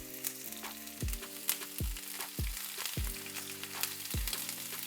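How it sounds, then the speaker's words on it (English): Oil sizzling and crackling steadily as onion fries in a skillet for chicken tinga, with faint background tones underneath and no talking. "we're gonna be frying the onion and the chicken"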